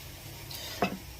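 Pepper, cinnamon, cloves and cashews fry lightly in a pan, with a steady soft sizzle throughout and a brief clink of a spoon stirring near the end.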